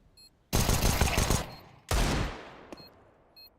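Two loud bursts of Desert Eagle pistol fire in a Counter-Strike pro league match, each a sharp broadband crack with a decaying tail, separated by about a second, plus faint game beeps.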